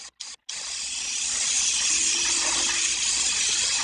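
Airbrush spraying paint along a paper straight edge, a steady close hiss that follows a few short bursts.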